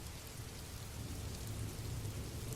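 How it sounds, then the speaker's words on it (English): Steady rain falls outside, a soft continuous patter with a low rumbling undertone, even and unbroken throughout, with no voices. "The rain fell softly outside"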